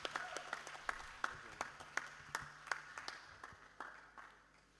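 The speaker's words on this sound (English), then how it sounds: "Round of applause for mommy, please." Sparse, uneven clapping from a small group at a mental health summit, individual claps distinct and loosely rhythmic, fading toward the end.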